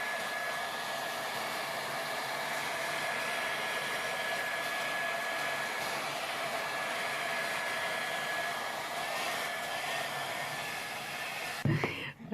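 A hair dryer blows steadily on layered paint, a continuous even whoosh with a thin whine running nearly the whole time before it cuts off with a brief knock near the end.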